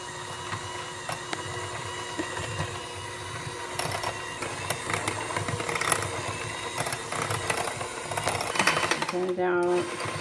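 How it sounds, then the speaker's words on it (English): Electric hand mixer beating potatoes in a bowl, a steady mechanical whir with rattling and clatter against the bowl, close and continuous, with a voice briefly over it near the end. "So you take your mixer, get the potatoes, start mixing them."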